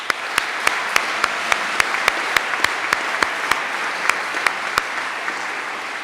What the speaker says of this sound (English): join me in giving a big round of applause to the teachers and staff